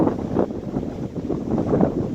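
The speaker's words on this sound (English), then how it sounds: "It's very windy." Strong, cold mountain wind rumbles and gusts against the microphone in uneven surges, loud and close, with no other sound.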